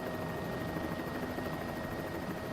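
Steady, loud rotor and turbine drone of a helicopter in Microsoft Flight Simulator 2024, a continuous whirring hum with a faint high whine, unbroken throughout.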